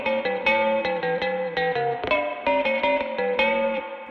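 A guitar run through a ring modulator pedal, producing clangy, metallic, bell-like tones in a series of plucked notes, steady and close with a slight echo.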